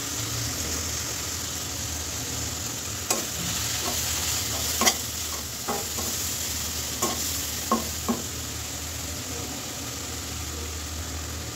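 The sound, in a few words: stirring spices with salt and turmeric in frying pan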